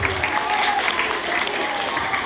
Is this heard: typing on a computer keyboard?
no